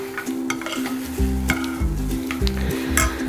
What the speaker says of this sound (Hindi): इसको हिला देते हैं ताकि अच्छी तरह ये मिक्स हो जाए।